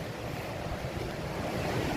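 A river flows alongside a rocky trail near Milltown on the way to Lower Arahura Hut, making a steady, moderately loud rushing wash mixed with wind noise throughout, with no talk.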